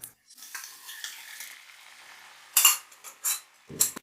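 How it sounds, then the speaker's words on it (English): A vegetable stir-fry with celery, mushrooms and sauce begins to bubble and sizzle in a pan. A spoon scrapes and stirs against the metal in several short, close bursts, and no one speaks. "It started to boil."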